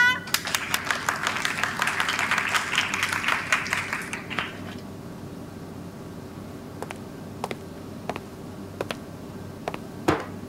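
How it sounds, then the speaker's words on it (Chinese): A classroom of students claps to welcome a new classmate: a burst of quick, overlapping claps for about four seconds fades into a few scattered single claps. "让我们来鼓掌欢迎他。"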